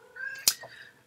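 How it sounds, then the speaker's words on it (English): A single short cat meow rises and falls, close by and clear, with a sharp click in the middle and a faint trailing murmur. "if you hear a meow somewhere here, it's my cat, which is meowing constantly"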